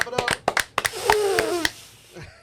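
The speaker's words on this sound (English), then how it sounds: "Clap it up." A small group in a TV studio claps in a quick run of sharp, close hand claps, while voices chatter and one person tries to whistle.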